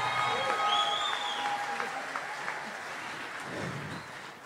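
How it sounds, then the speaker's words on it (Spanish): Applause from an audience for a saxophone player at an Ayacucho folk music show, a steady, moderately distant wash of clapping lasting about four seconds, with some faint tonal sounds mixed in. "El aplauso para él, por favor."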